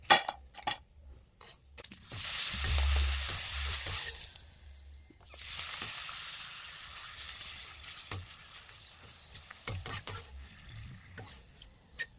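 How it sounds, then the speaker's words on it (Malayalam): Cut papad pieces frying in hot oil, with bursts of bubbling sizzle swelling and fading, broken by sharp clinks and taps of a utensil against the pan. "എണ്ണ ഒഴിച്ചു കൊടുക്കാവേ ഇനി നമുക്ക് മുറിച്ച് വെച്ചിട്ടുള്ള പപ്പട ഒഴിച്ചു കൊടുക്കാവേ"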